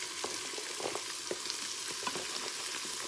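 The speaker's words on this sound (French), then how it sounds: "On va les faire suer un peu les poireaux. Les carottes elles vont bien revenir aussi." Leeks and carrots sweat in a hot pan with a continuous soft sizzle, broken by light crackles and occasional stirring scrapes at close range.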